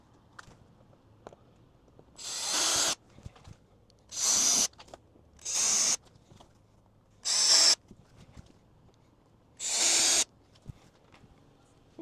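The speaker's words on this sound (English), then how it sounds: "I'll take this back out to the garage and drill these all out to size and bolt it up." A power drill bores pilot holes for a splitter kit on a VB Subaru WRX in a garage. Five loud, short bursts of high-pitched whirring are separated by quiet pauses.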